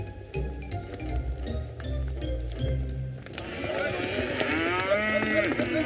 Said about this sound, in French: Avec l'automne, les vaches quittent le marais.